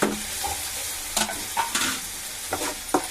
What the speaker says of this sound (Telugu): ఇది కూడా కొంచెం వేగనివ్వాలి కొంచెం ఇలా వేగనిద్దాం